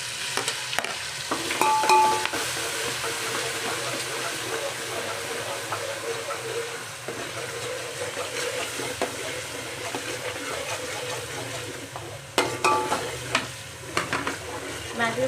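A spice paste fries with cumin in a pan for pulav in a small home kitchen, a steady close sizzle with spoon scraping and clinks running throughout, and a sharper clatter near the end.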